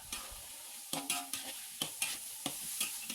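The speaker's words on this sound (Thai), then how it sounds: "ใส่ผักของเราลงไปผัดได้เลยครับ ขั้นตอนนี้จะใช้เวลาประมาณ 5-6 นาทีเหมือนกันครับ ผัดไปเรื่อย ๆ ครับ" Pork and vegetables are stir-fried in a pan. About eight rhythmic spatula scrapes and clacks ride over a soft sizzle, and no one speaks.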